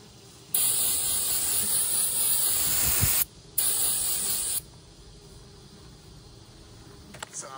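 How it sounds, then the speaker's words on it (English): An aerosol insecticide can sprays into a ground yellow-jacket wasp nest in two long hissing bursts close up, the second shorter, followed by quiet. "I just spray some spray in there because there are just too many of them coming out here"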